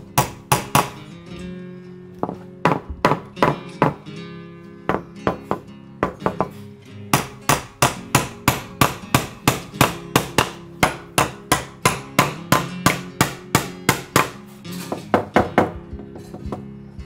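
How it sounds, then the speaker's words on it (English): A long run of sharp hammer blows on nails into wooden deck boards, steady and rhythmic with brief pauses between bursts, close and loud with a ringing metallic edge. "I use nails to secure the deck boards."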